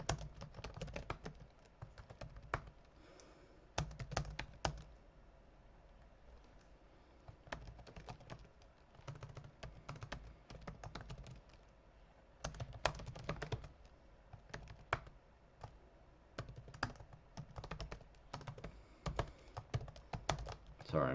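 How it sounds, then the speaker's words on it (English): Steady computer keyboard typing in irregular bursts of quick key clicks, close and clear, with short pauses between runs and no talking. "Sorry, I'm typing this out"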